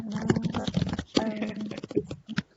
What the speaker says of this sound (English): Esther, I think you're typing